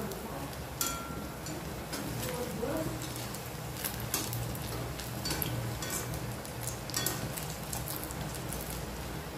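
Bhaji fritters frying in hot oil, a dense close crackle and spatter running without pause, with a voice talking over it.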